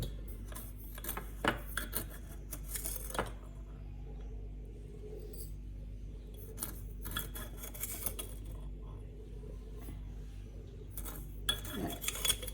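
A metal spoon scrapes and clinks against a bowl and container while granulated sugar is scooped for a sweet garlic eggplant dish, with scattered clinks and rubbing over a low steady hum and long quiet gaps.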